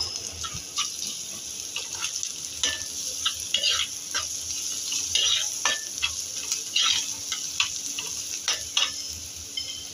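Garlic sizzles in hot oil in a pan for a fish gravy while a spoon scrapes and stirs at an uneven rhythm. The sound is close and fairly quiet, with no voices.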